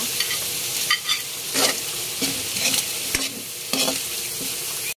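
Crushed garlic and smoked fish (tinapa) frying in a pan for palabok, a loud close sizzle broken by repeated scraping and clacking of a stirring utensil, with no talk.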